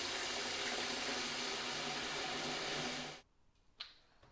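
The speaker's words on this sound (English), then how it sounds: "I'm going to add about a few litres of hot water" Several litres of hot water gush steadily from a tap into a mixing jug for sanitizing home-brew equipment, a loud broadband rush lasting about three seconds before cutting off, followed by a brief clunk.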